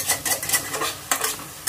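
Leafy greens and potatoes, with the water still on the greens, are stirred together in a pan. Quick, rhythmic scraping strokes sound close up over a light sizzle, with no talking.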